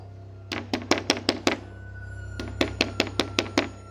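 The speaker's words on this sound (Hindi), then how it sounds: "रोज रात में वो घर घर जाकर जोर जोर से दरवाजा खटकाती" Loud knocking on a door as a horror sound effect: two bursts of about six sharp, evenly spaced knocks each, separated by a brief pause, over a low steady hum.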